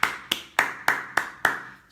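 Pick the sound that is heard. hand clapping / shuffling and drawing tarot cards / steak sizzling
hand clapping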